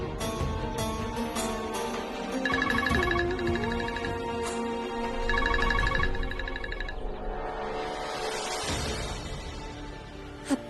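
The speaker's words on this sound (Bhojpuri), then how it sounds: "घर से फोन आ रहा ला" A mobile phone rings with an incoming call, its tonal ringtone pulsing in two repeated bursts over a background music score. No one speaks.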